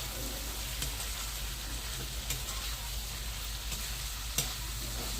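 Bitter gourd pieces sizzle in a pan for a tamarind curry while a spoon stirs them, a continuous close frying hiss with occasional light scrapes and no talking.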